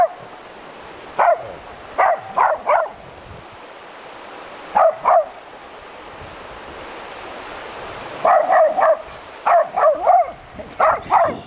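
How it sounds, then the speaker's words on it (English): A dog barks at a buzzard circling overhead, in short bursts of two to four barks spread across the stretch, heard outdoors over steady wind and water noise while fishing. "Dog's not happy about the buzzard circling."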